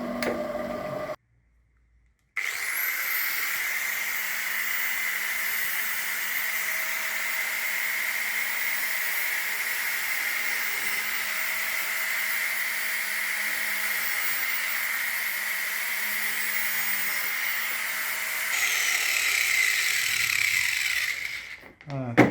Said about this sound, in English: I think this might be quicker using the grinder.